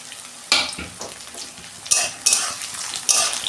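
Onions frying in a pan, a steady close sizzle broken by several sharp clinks and scrapes of a spoon stirring against the metal, with no talk.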